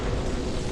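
Tower explosions dealing area damage in the video game Defense Task Force, a dense, continuous roaring blast texture, loud and sustained over a brief moment.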